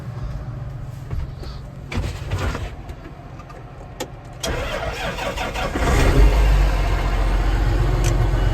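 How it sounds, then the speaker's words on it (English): An old Link-Belt machine cranks, coughs and catches, its engine rising into a loud, rough, low rumble, with a few clanks and thumps before it fires. "We'll fire up the old link belt."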